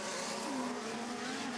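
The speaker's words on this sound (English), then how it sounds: "Car stops in the wall." A Formula 1 car at the Las Vegas Grand Prix grinding to a halt against the wall, heard as a steady broadband roar with a thin whining tone sliding downward, no voices over it.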